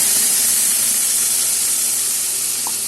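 Ground spice paste dropped into hot white cooking oil for a vegetarian potato curry hisses and sizzles loudly and steadily at close range throughout, with no voices.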